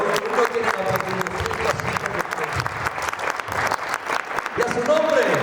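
A church congregation applauds Jesus with loud, continuous clapping and scattered cheers, voices rising through the crowd noise and a sung or shouted phrase near the end.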